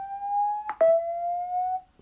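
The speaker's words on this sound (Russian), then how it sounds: "И есть функция очистки динамика звуком" A steady, loud speaker-cleaning tone from a Blackview OSCAL Elite 1 tablet speaker, briefly broken by a buzzy stutter, then resuming slightly lower before cutting off.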